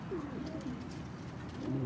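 A pet pigeon and its mate give a few low, rolling coos close by over a steady murmur of background noise.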